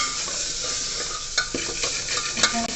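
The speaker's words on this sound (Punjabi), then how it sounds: "ਮਸਾਲੇ ਨੂੰ ਚੰਗੀ ਤਰ੍ਹਾਂ ਹਿਲਾ ਕੇ" Spice mix with garam masala, coriander powder and salt is stirred in a hot pan while making aloo pakode, a steady sizzle with intermittent scraping and clinks of the spoon against the pan.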